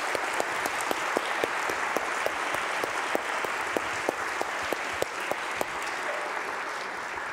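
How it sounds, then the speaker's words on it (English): An auditorium audience at a science lecture event applauds steadily, a dense wash of many hands clapping with a few sharper claps standing out, sustained and fairly near throughout. "Let's round of applause for these guys."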